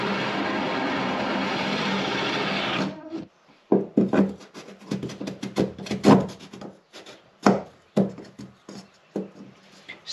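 Drill boring up from underneath into the hull of an abandoned boat under restoration, a steady loud whir for about three seconds, then stops and gives way to irregular knocks, rubs and scraping bursts.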